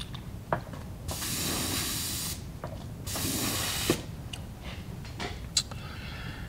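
An airbrush sprays in two sharp hissing bursts about a second long while being rinsed out, with small clicks and handling noises in between, close and fairly loud.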